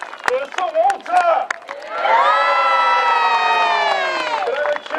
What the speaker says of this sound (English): Can I have a cheer for our squires from the audience?